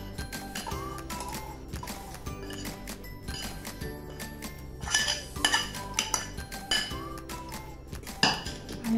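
Paneer kalakand mixture is spooned into a ghee-greased vessel with repeated metallic clinks and scrapes of a spoon against the pot, clattering loudest near the middle and end.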